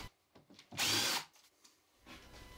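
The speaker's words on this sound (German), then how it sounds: "Dafür muss ich die Löcher mit einem kleineren Bohrer vorbohren und anschließend versenken." A power drill bores small pilot holes with a narrower bit, likely into wood, in one loud burst lasting about half a second amid quieter workshop handling noises.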